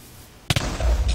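A Minecraft TNT block detonates with a sudden sharp blast and a quick second pop, followed by a rumbling low tail after a quiet lead-in.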